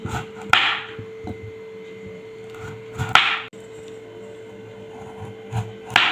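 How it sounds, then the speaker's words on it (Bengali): A knife cuts through ash gourd into thick chunks on a board, giving three heavy, widely spaced chops with quiet pauses between them and no talking. "এতটা মোটা করে এরকম করে চাক চাক করে কেটে নিচ্ছি"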